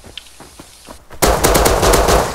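Gunfire in the video game Rust: a few scattered sharp shots, then a loud, dense burst of rapid automatic fire close by.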